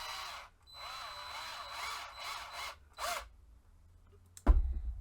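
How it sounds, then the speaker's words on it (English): A power drill whirs through a piece of wood in several short bursts, close and fairly faint, ending with a heavier knock. "carefully start drilling through the rest of my wood piece here"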